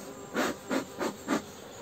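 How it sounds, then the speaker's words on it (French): Black honey bees from a split colony, old and nervous, buzz in four distinct swelling pulses, each rising and fading as bees pass close to the hive, with a faint steady hum between. "c'était de l'abeille noire que j'ai divisé. Donc elles sont un petit peu nerveuses"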